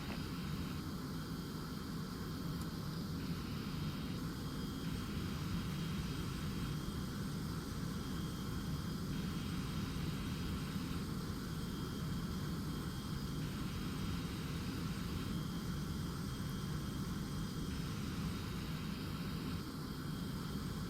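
Steady aircraft engine drone in the Prepar3D flight simulator, a constant broadband roar with a faint periodic tone pulsing on and off, no talking.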